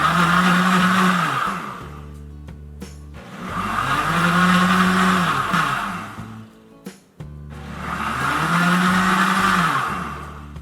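An Instant Ace Plus blender whirs loudly in three long pulses while blending almonds into almond milk, its motor revving up and settling with short pauses between bursts.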